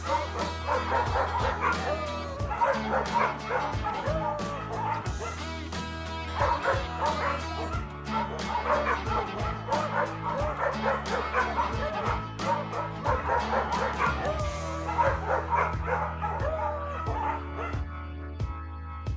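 Dogs bark, yip and whimper in a run of quick, repeated calls layered over steady background music, the sounds close and fairly loud throughout.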